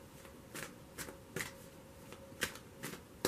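Tarot cards shuffled close by in a quiet room: five or six soft, separate papery riffles and taps at an uneven pace, faint and alone.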